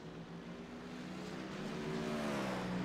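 GT race cars, BMW and Mercedes machines, roar down a long straight at Mount Panorama in a sim racing game, a steady engine drone that swells louder toward the end with no talk.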